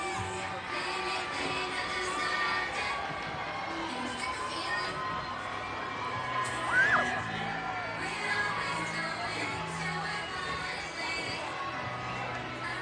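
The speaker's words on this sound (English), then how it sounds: "you can see the crowd really enjoying what the Order of Athena brought this morning" A Mardi Gras parade crowd in Mobile murmurs and cheers at the Order of Athena floats in a steady outdoor din. Scattered whoops and shouts rise briefly around the middle, and a voice talks over the noise.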